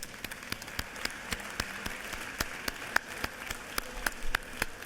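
Scattered applause in a state House of Representatives chamber, honoring the Bremen cheerleading team, with sparse individual claps popping at an uneven pace at moderate distance and no voices over them.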